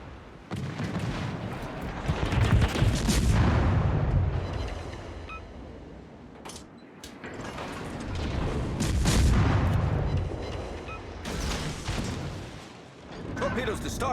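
Naval artillery fires from warships in World of Warships, heavy booming salvos rolling in repeated waves with deep sustained rumble and sharp cracks, loud and close.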